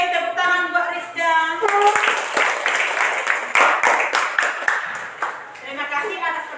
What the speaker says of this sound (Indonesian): tepuk tangan buat Rifda